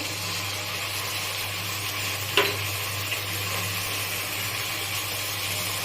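Tomato sauce going into a pan of frying chilli paneer, a continuous soft sizzle with a low steady hum beneath and one sharp clatter of a spoon or stirring near the middle, no talking.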